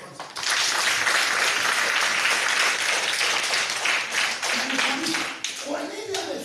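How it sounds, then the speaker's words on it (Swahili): A crowd applauds at a Swahili motivational talk, dense sustained clapping that fills most of the moment before tapering off as a voice returns at the end. "Pigie makofi kwanza"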